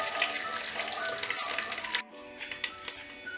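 Curry leaves fry in hot oil with mustard seeds for a Tamil lentil-ball kuzhambu, giving a loud, close, steady sizzle that eases after a brief break into softer crackles and pops.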